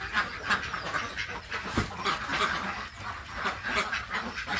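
A flock of farm-raised Yi-Liang egg-laying ducks quacks almost continuously nearby, with overlapping calls in an uneven rhythm and no talk.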